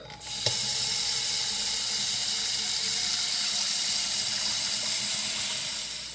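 Steady rushing water from a tap pouring into a pan, close and constant, with a brief clink at the start and no voices.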